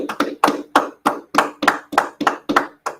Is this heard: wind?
no